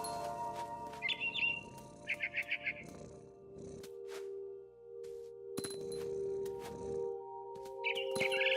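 A barn swallow in the video game What Remains of Edith Finch chirps near its nest outside a window, giving short bursts of quick repeated tweets separated by pauses, over a quiet ambient hum with a few soft thumps.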